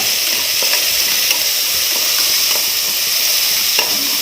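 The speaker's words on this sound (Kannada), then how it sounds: "ಚೆನ್ನಾಗಿ ಫ್ರೈ ಮಾಡೋಣ." Fish head masala with turmeric frying and being stirred in a pan for a fish head sambar, giving a steady close sizzle with occasional scraping stir strokes and no talk.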